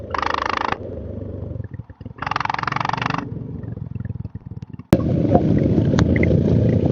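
A Royal Enfield Himalayan 411 motorcycle with a full-system exhaust revs and accelerates, its loud, throaty engine note rising and falling in bursts, then holding a steady drone.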